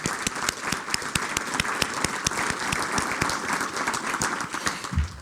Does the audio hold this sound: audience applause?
yes